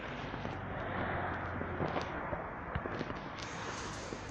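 Distant Bonfire Night fireworks in the UK crackle and pop faintly behind a tree, scattered bangs rising out of a dense wash of outdoor background noise, with no voices.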